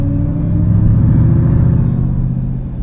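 Supercharged Jeep Grand Cherokee Trackhawk SUV, 710 hp, driving in normal auto mode: a steady, loud engine drone with low rumble and a faint high whine riding on top, continuous throughout without speech.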